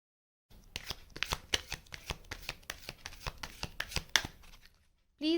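Tarot cards riffled and shuffled in a steady run of crisp, close flutters and snaps lasting several seconds, ending in a brief louder rustle.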